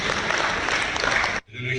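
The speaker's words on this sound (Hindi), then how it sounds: "मैं आपसे निवेदन करूँ, सब तालियां बजाकर आप" A crowd at an Indian political event bursts into dense, continuous clapping that cuts off abruptly after about a second and a half, and other sound follows.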